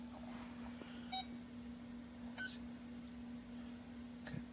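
Three short electronic beeps from a Ford parking aid warning system, evenly spaced and faint, over a low steady hum.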